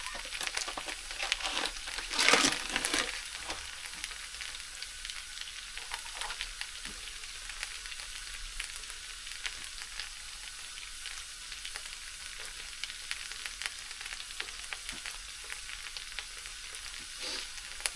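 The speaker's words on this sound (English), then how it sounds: "Now it's time for the steaks. Let's get these bad boys on." Steaks sizzle and fry on a wood burning stove, a steady crackling hiss running throughout with a louder burst early on as the meat goes down.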